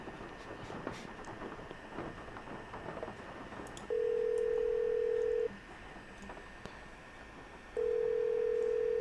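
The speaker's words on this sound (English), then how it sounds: "We gotta call Bess." Touch-tone telephone number dialed in the Nancy Drew: Legend of the Crystal Skull video game, with two long steady tones a few seconds apart over a busy game background.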